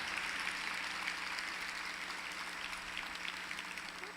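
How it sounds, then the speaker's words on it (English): Conference audience applause at a Hispanic women's organization keynote event, steady and faint, heard from a distance as a continuous even wash of clapping. "please give a round of applause, un aplauso for Margarita."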